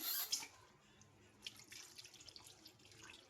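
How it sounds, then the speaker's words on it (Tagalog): Water is poured from a tap into a cooking pot of tanigue fish with spices, making a close, steady hissing trickle and splash that starts strong and then settles into softer running water. "So, lalagyan po natin ng kunting tubig."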